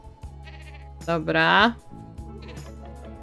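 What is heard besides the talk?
goat bleating in the video game The Sims 4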